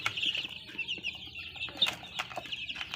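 Young Thai chickens about twenty days old, a mix of males and females, clucking and peeping in a brooder, a busy scatter of short chirps and clucks with a few soft wing flutters, fairly close and moderate.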